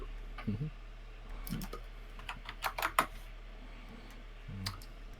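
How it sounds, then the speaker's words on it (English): Clicky keyboard keys clatter in short irregular bursts, a few scattered presses then a quick flurry, close and fairly soft, with faint voice sounds between. "my clicky keyboard is very noisy"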